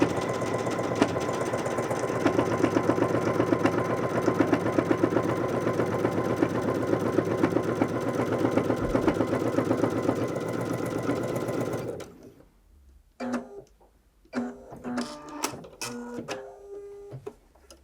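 A Bernette b77 sewing machine stitches through eight layers of folded fabric in a steady, rapid mechanical run for about twelve seconds, then stops, followed by intermittent handling clicks.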